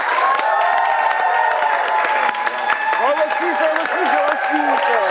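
Studio audience on a Ukrainian talk show applauding and cheering as a guest, a member of parliament, walks on: loud, dense clapping with whoops and shouts, and voices rising over the crowd noise.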